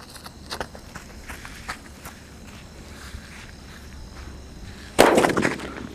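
A sharp sutli firecracker bang goes off near the end, loud and close, after several seconds of faint crackling and outdoor rustle.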